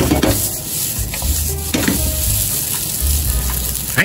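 Tuna curry fried rice stir-frying in a pan over high heat, a steady loud sizzle with repeated scraping and tossing strokes from the spatula and pan, with no talking.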